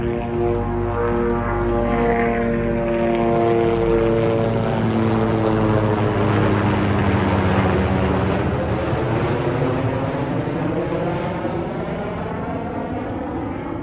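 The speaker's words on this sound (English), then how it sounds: "that sounded like a police helicopter" A police helicopter over Lexington, Kentucky makes a loud, continuous rotor and engine drone that rises to a peak and slowly shifts pitch as it passes over a downtown street.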